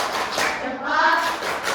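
A class of children does a quick rhythmic salute clap in a classroom, the bright claps mixed with young voices over about two seconds.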